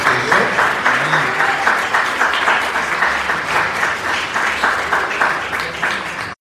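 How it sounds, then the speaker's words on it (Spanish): A church congregation claps along in worship, a steady rhythmic patter of many hands filling the room, with a voice and music faintly underneath throughout. "Dele palmas al Señor"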